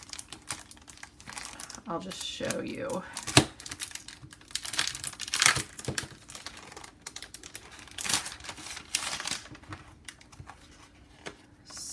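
Half-sheet planner paper from a Happy Planner accessory pack is handled, giving scattered crinkling and papery rustles. A sharp crackle stands out midway. A voice speaks briefly over the handling.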